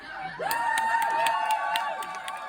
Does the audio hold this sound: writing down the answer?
no